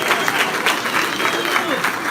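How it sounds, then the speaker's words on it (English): A crowd applauding, with dense, continuous clapping that stays loud throughout. "Give yourselves a big round of applause."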